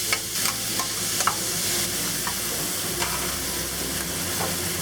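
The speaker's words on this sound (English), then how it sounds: "We'll cook the beef for about a minute until it changes color." Beef stir-frying in a hot pan, a steady close sizzle with repeated scraping strokes of a spatula against the pan, no voices.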